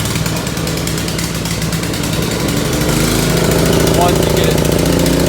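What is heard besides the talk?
small engine cold start with choke on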